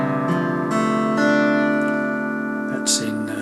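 Guitar tuned down a whole step, strummed as one low open chord that rings with several restrikes, close and fairly loud, for a song.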